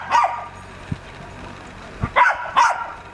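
A small dog tied up at a farm where alpacas roam barks in short, loud bursts, one at the start and two closer together near the end, with quiet gaps in between.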